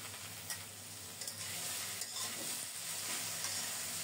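Vegetables with a little turmeric sauté for shukto in a pan, a steady close sizzle with a few light stirring knocks.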